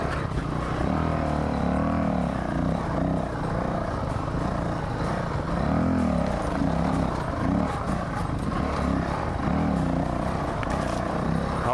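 Dual-sport motorcycle engine pulling on the throttle along a rough trail, Honda CRF450L or KTM 500 EXC-F: a continuous loud, rumbling drone that rises and falls in pitch with throttle changes, heard close without talk.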